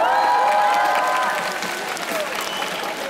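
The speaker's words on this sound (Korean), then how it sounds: "박수 한번." Concert crowd at an outdoor evening show applauding briefly, a dense wash of clapping with some cheering voices over it, fairly close and steady before tapering slightly.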